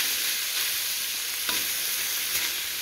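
Steady sizzling of pork frying in a little hot oil in a wok, a continuous crackling hiss with a few small pops, no voices.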